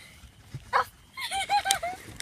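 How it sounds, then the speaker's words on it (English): A dog inside a car gives a short yip and then a run of higher whimpering whines, heard close and loud over a quiet background. "Oh god, the dog's in the car."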